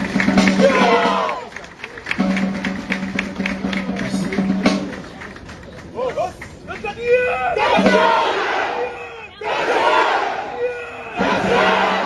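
A crowd cheers and shouts in loud, repeated surges, with voices rising and falling between bursts and some rhythmic clapping or tapping underneath.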